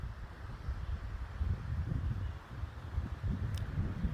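Steady wind blows outdoors at a lake in the Boundary Waters wilderness on a very windy day, a constant low rushing buffet with no voices.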